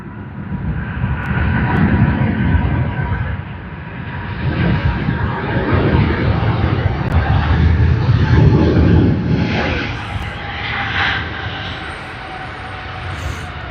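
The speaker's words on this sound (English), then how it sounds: "Air Canada has begun its takeoff roll" An Air Canada jet airliner rolls down the runway for takeoff, a loud, heavy engine roar that swells and surges over several seconds and then eases off, with no talking.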